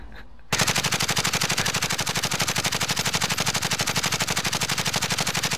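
Sustained rapid automatic gunfire in a battle royale video game, a steady machine-gun rhythm of dense, loud shots running without pause after a brief quieter lead-in.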